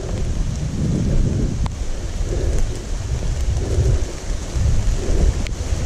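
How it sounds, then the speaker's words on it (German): Heavy rain pours steadily outdoors near old mine spoil heaps, with low rolling thunder rumbling beneath the constant downpour. "Es regnet heute echt in Strömen."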